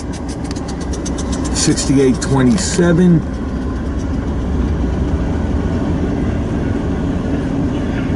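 A long freight train rolls past with a mid-train DPU locomotive, giving a continuous heavy rumble of engines and rail cars, loud and close. A louder droning engine swell comes through briefly early on, and a voice speaks over it.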